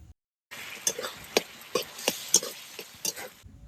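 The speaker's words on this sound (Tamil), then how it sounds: "சரி, தக்காளி நல்லா வதக்கிக்கலாம்." Tomatoes sautéing in a pan over spices already fried soft, with a steady soft sizzle and repeated sharp clinks and scrapes of a spoon stirring against the pan at an irregular pace.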